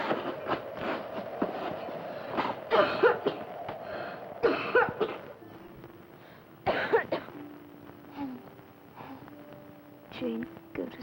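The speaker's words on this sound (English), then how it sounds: "It's only the cough. I've always had it." A girl coughs, a few separate harsh bursts spaced a couple of seconds apart, close by and fairly quiet in a still room.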